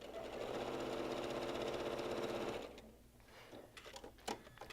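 A sewing machine stitches quilt pieces in a fast, steady, close whirring run for about two and a half seconds, then stops, leaving faint clicks and handling noises.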